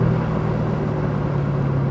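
Steady engine drone from a 2025 Porsche Panamera GTS with a V8, heard from inside while cruising on straight roads, a continuous low hum with a faint whir, no voices.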